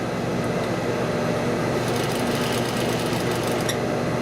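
A sewing machine runs steadily throughout, stitching a shirt collar with a continuous, even mechanical hum, close and constant with no talking.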